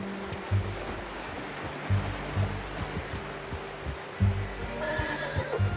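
A horse whinnies in Red Dead Redemption 2 over a steady wash of ambient game sound, with soft clip-clop hoof thuds recurring at intervals and a brief higher neigh-like tone near the end.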